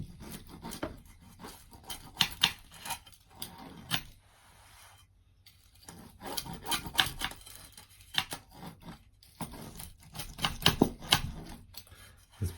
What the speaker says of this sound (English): This pizza base only just fits in this pan, so it's a bit hard to cut it, especially the edges.